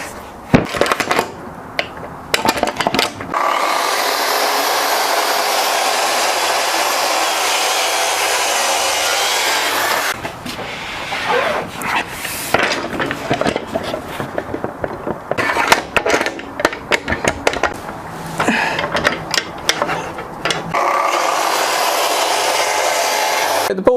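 Power saw cutting wooden boards to length for a river table, with several long loud bursts of harsh whining cut separated by short pauses and handling noise, close by.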